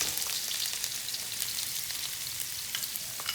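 Chopped onions fry in hot oil in a pan for spaghetti pomodoro, making a steady, even sizzle that stays close and constant throughout, with no voices.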